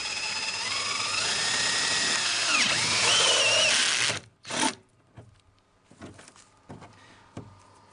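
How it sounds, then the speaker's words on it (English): An electric drill with a spade bit bores a hole in a plastic wheelie bin, a loud, close whine that shifts in pitch as it cuts. It stops around the halfway mark, followed by a short burst and scattered knocks and rattles. "I'm just going to use the spade bit again just to make a hole so that I can get the jigsaw in there"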